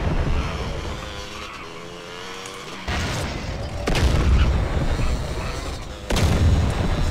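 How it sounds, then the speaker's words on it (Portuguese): Repeated explosions at bases in MTA DayZ: several heavy booms hit a few seconds apart, each swelling into a dense, loud low roar that stays on between blasts. "Meu Deus do céu. Quanta explosão."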